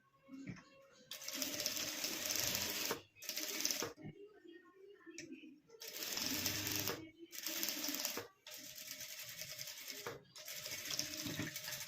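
A sewing machine stitches fabric for a kurti jacket made from a saree's pallu, in repeated bursts of rapid whirring separated by short pauses, close and fairly loud.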